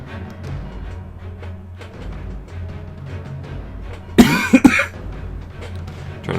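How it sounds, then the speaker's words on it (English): A cluster of sharp coughs bursts out midway, loud and close, during a Dota game commentary, against a low steady background hum. "Trying not to cough in the direction of the microphone"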